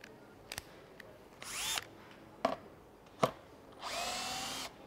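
Bosch compact cordless drill driving screws, two whirring bursts of motor separated by sharp clicks and knocks, close and fairly quiet.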